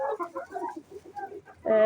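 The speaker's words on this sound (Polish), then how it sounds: "tutaj wiele innych kur, które dzisiaj kupiłem. E, nowych kur jest 30, a starszych kurek jest 12" Close, rapid hen clucking in short bursts, several birds in a flock chattering together, ending in a louder squawk.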